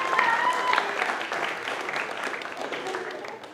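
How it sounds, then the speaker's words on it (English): Audience at an awards banquet clapping and cheering in a steady, dense wash of applause with a few whistles and shouts, loud and close, tapering slightly toward the end. "you guys can clap and make some noise"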